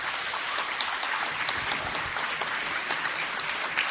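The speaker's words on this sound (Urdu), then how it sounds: "زوردار تالیوں سے ان کا استقبال کیجئے" Audience at a Bait Bazi final competition in Aurangabad, India applauds to welcome the winning team, dense steady clapping filling the room throughout.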